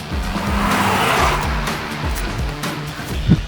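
Hyundai Alcazar 2023 with its 1.5-litre 160hp turbo-petrol engine pulling hard in Sport mode, a loud droning engine note rising through revs with tyre noise, close and continuous.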